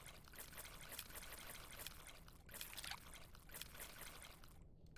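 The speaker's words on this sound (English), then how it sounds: "Looks like I have to mix the tamarind with the water to extract its essence multiple times" Tamarind mixed with water in a bowl in the video game Venba, a faint continuous liquid swishing and trickling with slight rhythmic surges, ending in a brief near-silence.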